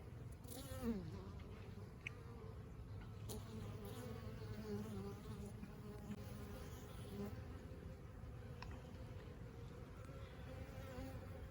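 Steady, low buzzing of many honeybees at a hive, continuous and fairly faint, with occasional louder passes of individual bees near the microphone.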